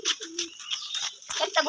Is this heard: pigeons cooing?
yes